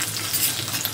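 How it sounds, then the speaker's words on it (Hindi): Curry leaves sizzle in hot oil in a pan for a green pea dish, a dense close crackle that runs steadily for a brief moment. "और करी पत्ता डाल देंगे।"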